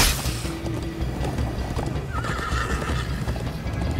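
A horse gallops and neighs in the Minecraft Story Mode video game, with steady clip-clop hoofbeats running throughout and a clear whinny rising over them.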